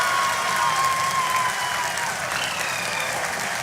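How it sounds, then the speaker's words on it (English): People at the Chandrayaan-3 lunar landing broadcast applaud, a dense, sustained wash of clapping from a large crowd that stays loud and steady, with faint tones and a murmur of voices beneath. "People are applauding."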